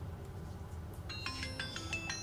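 A mobile phone ringtone starts partway through and plays a bright, repeating electronic melody at moderate distance in a quiet room at night.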